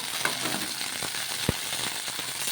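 Green chillies sautéing in a little hot oil produce a brief, even sizzle close by, dotted with a few faint crackles and one small clink.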